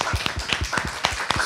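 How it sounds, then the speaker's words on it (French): Audience at an academic colloquium applauding a presentation, heard as a brief burst of sharp, regular hand claps, close and fairly clear, with no talk. "On va applaudir."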